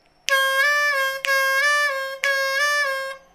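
Three sustained draw notes on a C blues harmonica, each bent down a half step on the fourth hole, sound in a triplet lick. The notes are loud, clear and evenly spaced, with brief breaks between them and no voice.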